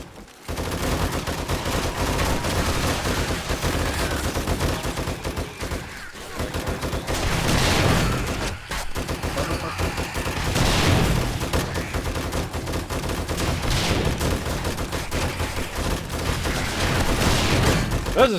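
Automated turrets open up on a horde of charging zombies in 7 Days to Die, a dense, sustained fusillade of rapid gunfire running almost unbroken for the whole stretch, loud and close, with brief gaps before the shooting resumes.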